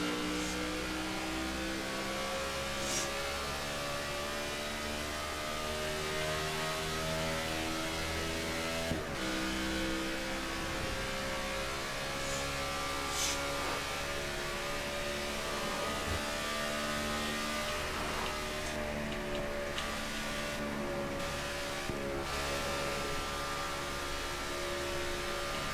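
Race car engine in NASCAR The Game: Inside Line on an outlap at Auto Club Speedway, a steady sustained drone with stacked harmonics that shifts pitch slightly, continuous and fairly loud throughout with no talk.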